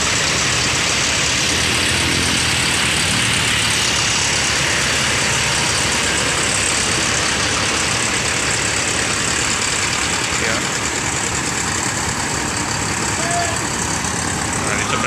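A Rosalia bus engine idles steadily after arriving, a loud continuous low rumble throughout with background voices and activity around it.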